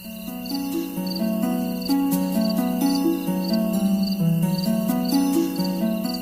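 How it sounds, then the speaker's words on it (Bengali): Crickets chirp at night in a rural setting, steady and loud, with overlapping pulsing trills from several insects filling the background continuously, no voices. "ঝিঝি পোকার ডাক কানে আসছে"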